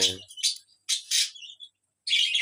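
Several small pet birds chirp indoors in short, high bursts with brief pauses between calls, close by.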